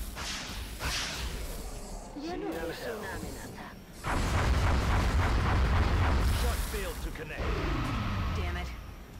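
A barrage of explosions hits mutons in XCOM: Enemy Within, heavy booming blasts and rumbling detonations rolling on for several seconds, loud and sustained, with someone talking over parts of it.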